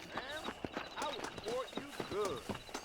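Horse hooves clip-clopping in the video game Red Dead Redemption on Xbox One X, a quick rhythmic run heard up close while a voice talks over it.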